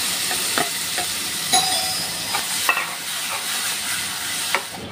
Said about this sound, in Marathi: आता आपण ही जी पालक, टोमॅटो, मिरची, कोथिंबीर याची पेस्ट करून घेतली आहे ती घालून घेऊया